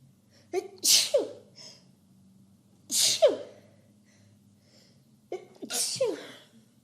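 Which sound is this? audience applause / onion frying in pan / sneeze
sneeze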